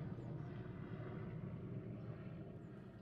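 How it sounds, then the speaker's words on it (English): Steady low rumble of helicopters flying over a city street near a bridge in Soho during a war protest march, a continuous droning roar lasting the whole stretch with no talking. "Oh yes, I've been hearing helicopters all day."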